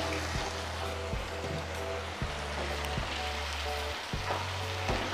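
Chicken do pyaza fries in a pan while being stirred, a continuous close sizzle broken by several soft utensil knocks at irregular intervals, with no speech.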